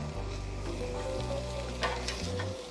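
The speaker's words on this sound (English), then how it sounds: "So they went onto the barbecue first for a sear." Lamb rumps sear on a barbecue with a continuous soft sizzle over a low steady hum, faint and close, with no talk.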